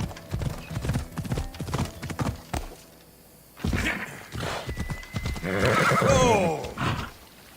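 Horse hooves clip-clop at a gallop in Assassin's Creed Odyssey, with a whinny and a rider's voice over the rhythmic thudding; the hoofbeats pause briefly midway and resume loud and close.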